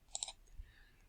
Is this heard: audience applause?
no